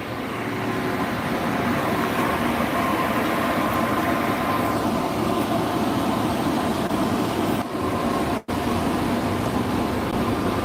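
E85-fuelled engine of about 2,000 horsepower roaring through a full dyno pull, a loud, sustained, dense engine drone that holds steady for ten seconds with two brief dips near the end.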